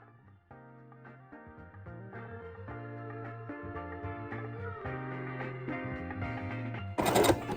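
A domestic sewing machine runs a zigzag stitch, width 5 and length 3, across crocheted trousers, with a steady rapid mechanical chatter that speeds up, then a brief louder clatter at the end.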